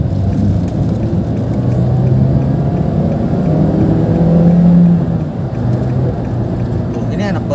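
A Honda Brio 1.3 hatchback accelerates on a city road, its engine note climbing steadily to a peak, then easing back under a constant loud cabin drone.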